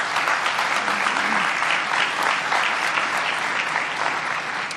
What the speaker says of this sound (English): the clapping really cuts into the time